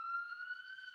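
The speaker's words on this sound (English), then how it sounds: "Sorry about the siren here." A steady electronic siren tone, faint and distant-sounding, holding one pitch with harmonics for about a second.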